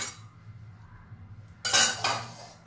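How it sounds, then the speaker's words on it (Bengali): A metal spoon clinks and scrapes against a bowl while stirring coconut-style chutney topped with a tempering of curry leaves and dried chilies, a few bright clatters after a quiet stretch. "চামচের সাহায্যে এটা একটু মিশিয়ে নিলাম"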